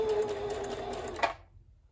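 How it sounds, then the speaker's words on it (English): A Necchi Q132A sewing machine runs a short burst of zigzag stitches to sew on a button, a quiet mechanical whir with a small click near the end before it falls silent. "And I'm going to do about 10 stitches on zigzag."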